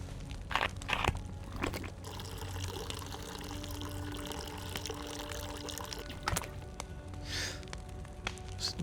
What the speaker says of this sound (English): we're going to put this water into the cooking pot